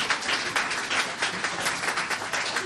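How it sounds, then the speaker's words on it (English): Audience at a 2017 student exchange graduation claps steadily for an award recipient, a dense, even patter of many hands filling the whole moment without a break. "You can clap"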